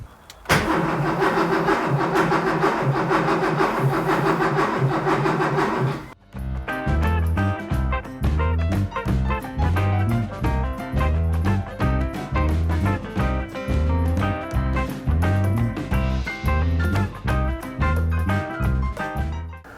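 A Porsche 911 2.8 RSR engine cranks over in a repetitive, loud, evenly pulsing churn after a few seconds of steady mechanical whir, without any voices.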